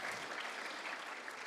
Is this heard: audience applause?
yes